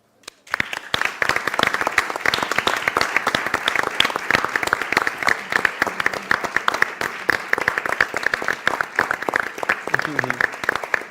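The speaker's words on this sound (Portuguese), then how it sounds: "merecem uma grande salva de palmas" An event audience gives a long, steady round of applause for the organizing team, dense clapping holding at an even level for over ten seconds without pause.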